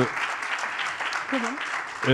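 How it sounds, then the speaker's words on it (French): Audience applause at a talk on rethinking our relationship with nature: a short burst of crowd clapping, fairly even throughout, with a voice briefly heard over it. "Ce bruit des applaudissements."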